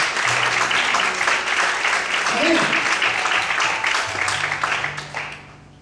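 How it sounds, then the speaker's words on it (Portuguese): A church congregation applauds the Lord during an evening service, loud sustained clapping mixed with voices and a low tonal hum throughout, tapering off toward the end. "Quantos podem aplaudir ao Senhor nessa noite?"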